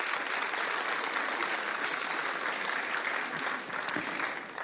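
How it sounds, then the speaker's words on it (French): An audience at a French chess championship closing ceremony in Alpe d'Huez applauds steadily, a dense, moderately distant wash of clapping that tapers slightly at the end. "on peut l'applaudir"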